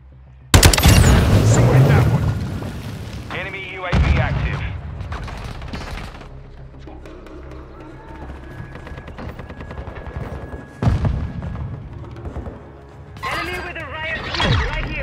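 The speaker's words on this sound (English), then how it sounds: "Throw in flash grenade!" Flash grenade blast and bursts of gunfire in a Call of Duty Modern Warfare 2 team deathmatch, a loud sharp bang followed by repeated rifle shots and further booms, with game voices talking over the action.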